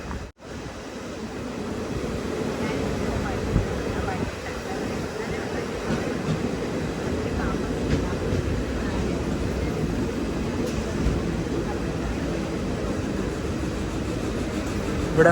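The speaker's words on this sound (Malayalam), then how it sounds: "ചേർത്തല റെയിൽവേ സ്റ്റേഷനിലേക്ക് ഇതാ നമ്മുടെ ട്രെയിൻ എത്തിക്കൊണ്ടിരിക്കുകയാണ്" The Jan Shatabdi Express rolls into Cherthala railway station with a steady, loud rumble of wheels and carriages, plus broad wind-like noise that holds for the whole stretch, close by.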